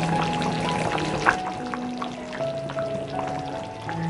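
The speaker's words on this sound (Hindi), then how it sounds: "मीडियम गैस पर अब मैं इसे उबलने दूंगी" A pan of Indian rawas fish curry bubbles and sizzles gently over a medium gas flame, with small pops and a soft steady simmer, close by and alone.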